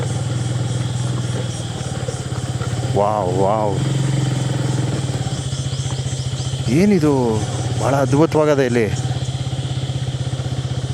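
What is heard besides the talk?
motorcycle engine idling at Bhadra dam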